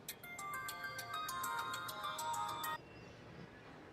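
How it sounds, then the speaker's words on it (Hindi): A telephone rings indoors in a domestic drama scene, a bright electronic ringtone repeating in quick regular pulses for nearly three seconds before it stops abruptly, leaving quiet room tone. "किसका फोन है?"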